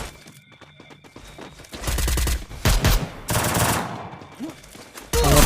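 Gunfire in the Free Fire video game: a rapid string of light shots opens, then heavy, loud bursts of automatic fire come in quick succession, with a final burst at the end.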